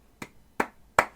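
Three crisp handclaps land at even intervals in a synth pop song, each a bright, dry smack, the last one loudest, with nothing else prominent around them.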